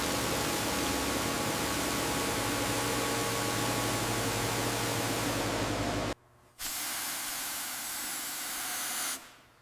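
A high-pressure water spray blasts embedded dirt off a 1936 Bugatti Type 57 Atlantic, a loud continuous hiss that breaks off briefly and then resumes at lower intensity.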